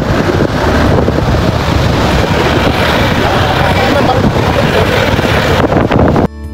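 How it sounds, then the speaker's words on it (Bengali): The sea roars steadily around a sampan boat riding along the coast between Cox's Bazar and Teknaf. Rushing wind and wave noise stay loud and unbroken until an abrupt drop at the very end. "সারাটা পথেই সাগর আর সাগরেরই গর্জন আপনার সঙ্গে সঙ্গেই চলবে"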